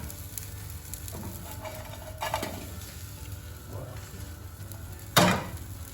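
Garlic sizzles softly in a pan, a low steady frying hiss with a few scrapes and clinks of a utensil and one sharper clatter near the end.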